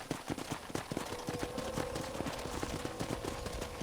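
Horse hooves clip-clopping at a steady trot in the Red Dead Redemption video game, a continuous rhythmic run of hoofbeats close up under game ambience, with no talking.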